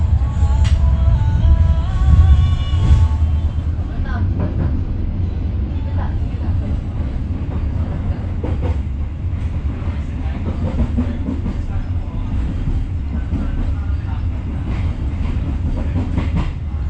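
Local passenger train on the Cepu–Surabaya line pulling away from a small station in East Java, a loud continuous rumble with rhythmic clickety-clack of wheels over rail joints, heard from aboard, with brief higher tones early on.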